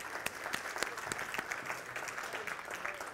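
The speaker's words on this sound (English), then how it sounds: "Are they clapping for you and I, Roz?" Audience applause fills a church during a Sunday service as a new couple is welcomed, a steady, fairly distant wash of many hands clapping with a few louder individual claps standing out, and no speech.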